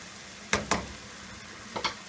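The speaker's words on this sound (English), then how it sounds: "the tomatoes are cooking with the chicken and softening up" Tomatoes and chicken cooking in a pan for a rigatoni pasta sauce, with quiet background sizzling and a few sharp clinks or stirring knocks standing out in two brief clusters.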